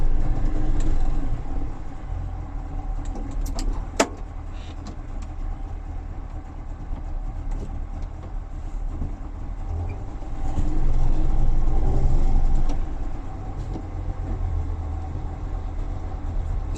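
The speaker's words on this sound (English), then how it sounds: "Lovely sound of a water-cooled two-stroke motor." A DKW car with a water-cooled two-stroke engine drives along, its engine note a steady, dense drone heard from inside the car, swelling louder for a few seconds midway, with a brief click near the start.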